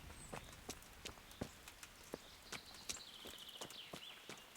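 A horse's hooves clip-clop at a steady walking pace in the video game Kingdom Come: Deliverance, with crisp, evenly spaced hoofbeats close by and a faint tonal whistle drifting above.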